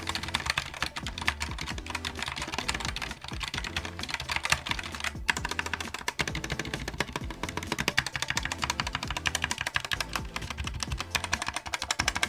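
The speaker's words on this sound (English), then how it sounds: "let's go ahead and do a typing test with the red switches on this Risophy full-size gaming keyboard" Steady, rapid typing on a Risophy full-size gaming keyboard with red switches, close and continuous, with dense overlapping key clacks and no talking.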